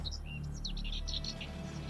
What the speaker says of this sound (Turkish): Dünyada sadece bu adada yaşayan iki kuş var.